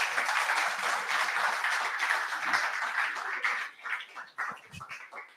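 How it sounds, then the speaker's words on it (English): A crowd applauds loudly and steadily for several seconds, then the clapping thins out into scattered individual claps before fading. "Give him a round of applause, please."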